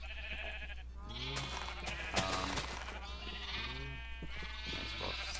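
Minecraft sheep bleating several times over a steady low hum, wavering calls repeating through the stretch, with no talk.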